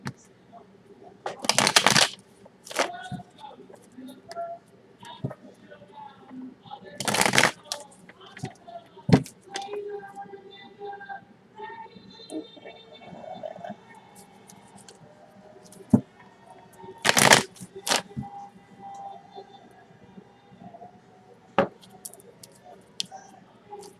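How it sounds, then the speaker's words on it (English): Cards being shuffled in several sharp riffling bursts, separated by quieter handling clicks and soft background sounds, close by. "let's do one more shuffle."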